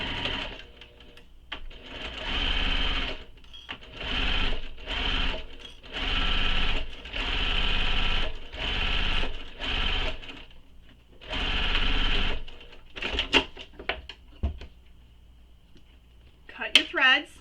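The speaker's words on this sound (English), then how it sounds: "we're then going to sew this with the seam allowance given in the pattern" A sewing machine stitches a handbag seam in repeated, loud bursts of whirring separated by brief pauses, with a voice speaking at times between runs.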